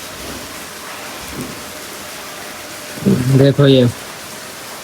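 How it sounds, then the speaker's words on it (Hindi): Heavy rain pours at night outside a house gate, a steady broadband wash through the whole stretch, while someone talks briefly near the end. "ये बारिश हो रही है, बहुत तेज हो रही है"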